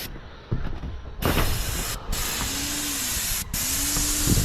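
A paint spray gun lays a primer coat on an old tin roof, giving hissing spray passes broken by short pauses, with a faint mechanical whine between them, close and with no talking.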